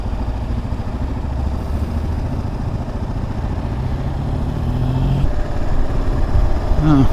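Steady, loud motorcycle engine drone while riding through the town of Thorold, Ontario, with low rumbling throughout and the pitch rising near the end, someone talking over it.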